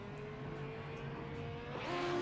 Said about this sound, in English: We hear John McCutcheon just revving up the engine